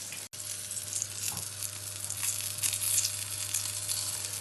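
Beef steaks, cote du boeuf and sirloin, searing in a hot pan, giving a steady, loud, hissing sizzle throughout with a brief dropout near the start.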